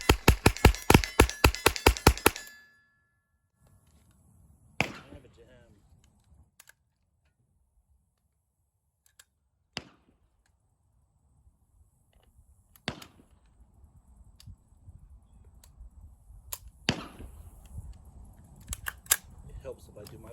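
A CMMG .22LR conversion kit fires from an AR-15 rifle in a fast string of sharp, close cracks, then falls to sparse clicks and handling noise while people talk.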